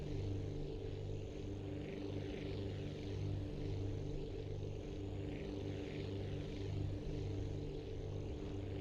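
A propeller aircraft in the video game Aviassemble taking off down the runway, a steady droning engine hum with a constant rumbling buzz, continuous and loud with no breaks or voices.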